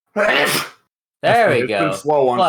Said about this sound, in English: Oh, hurry up and sneeze.